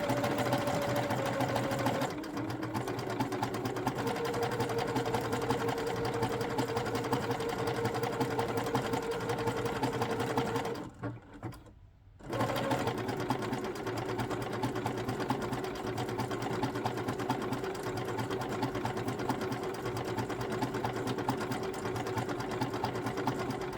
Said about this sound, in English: So I just did a test on my sewing machine, and I think I'm going to go with this decorative stitch for applying my patch.